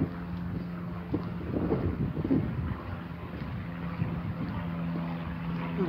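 Wind blows across a marina on a cloudy, windy day with occasional rain, a steady low rumble with gusty buffeting on the microphone that swells and eases for several seconds, with no talking.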